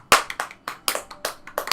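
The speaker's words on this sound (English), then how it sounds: "when he's done, they clap their hands again" Classmates clap their hands in the visual novel Katawa Shoujo, a quick run of about eight sharp, close claps in an uneven rhythm, with no talk over them.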